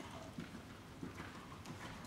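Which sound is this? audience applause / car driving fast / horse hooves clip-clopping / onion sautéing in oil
horse hooves clip-clopping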